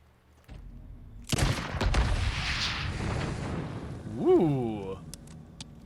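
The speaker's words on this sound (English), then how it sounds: "that explosion was not designed for midair, because it probably would have looked pretty different if it was" An explosion in the Days Gone video game bursts out in midair as a loud, broad roar that rumbles on for several seconds, with a rising-falling tonal swoop near the end.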